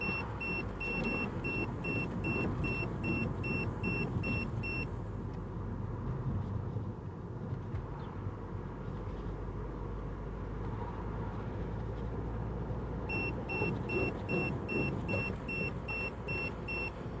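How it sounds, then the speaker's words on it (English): Repeated electronic beeps from an M1 head-up display GPS speed alarm in a moving car, a steady train of short tones sounding for several seconds, pausing, then returning over constant road and engine rumble. "So when I get up to that speed, the speed alarm will trigger."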